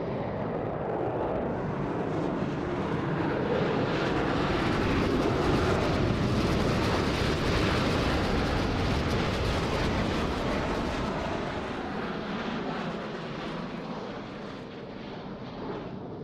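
A jet aircraft in the Roblox video game accelerates through an aerobatic reversal turn, a loud broadband roar that swells toward the middle and slowly eases off at the end.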